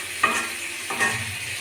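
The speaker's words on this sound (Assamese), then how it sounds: "এতিয়া এইখিনি অলপমান টান হ'বৰ কাৰণে ফ্ৰাই কৰি ল'ম।" Chicken pieces fry in a pan with cinnamon while being stirred, giving a close, continuous sizzle broken by two brief stirring scrapes.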